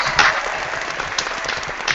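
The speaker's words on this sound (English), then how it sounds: "it's time for a round of applause" A round of applause breaks out during a live retro-themed online show, with steady, fairly loud clapping throughout the short stretch.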